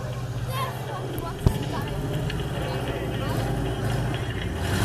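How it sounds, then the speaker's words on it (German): A 1933 Ford V8 vintage race car on a sandy track gives a steady low engine rumble under a commentator's voice, with one sharp knock partway through. "Herko Plötz pilotiert hier wieder seinen alten Ford Dirtrekker von 1933. 8-Zylinder-Motor, natürlich ein schöner V8"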